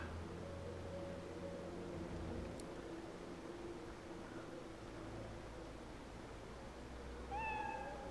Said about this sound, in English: a random cat that's meowing